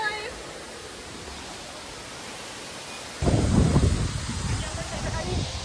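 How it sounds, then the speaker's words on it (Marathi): Water rushes down the Siddheshwar waterfall in a steady broadband roar that swells abruptly louder partway through, like the heavy hiss of a close torrent, with no clear speech. "आम्ही फायनली धबधब्यावर आलोय."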